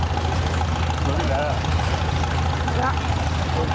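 A 1940 Farmall 8 tractor engine rolls past in an antique power tractor show parade, a steady low rumble with a knocking idle that runs throughout beneath a nearby voice.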